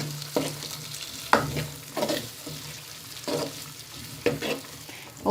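Potatoes and green chickpeas frying and being stirred in masala, with soft sizzling broken by a few scraping stirs of the spoon against the pan.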